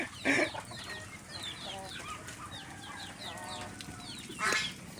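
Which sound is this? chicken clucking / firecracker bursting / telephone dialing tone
chicken clucking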